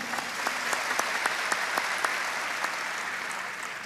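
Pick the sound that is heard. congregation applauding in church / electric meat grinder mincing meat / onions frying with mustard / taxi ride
congregation applauding in church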